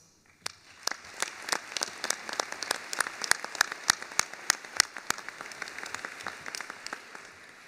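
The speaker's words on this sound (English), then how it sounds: "Please join me in a round of applause." Applause at a veterinary medicine commencement ceremony, starting from quiet and building into scattered, distinct claps that thicken into steady clapping from a sizable but distant-sounding audience.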